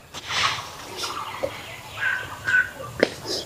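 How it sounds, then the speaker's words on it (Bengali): A large village chicken close by gives a few short, throaty clucks and squawks, spaced over a few seconds. "এই যে বাড়ির মুরগি, এটা দেখুন"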